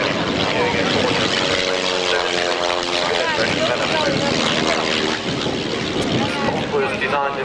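A 1947-built military biplane trainer of 1930s design flies a display at the RAF Waddington airshow. Its propeller engine drones loudly with a steady, pulsing tone that shifts in pitch as it passes, while a commentator talks over it.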